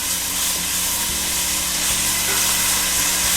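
Thin slices of pancetta sizzle and crackle in hot olive oil, a loud steady frying hiss close up with no talk.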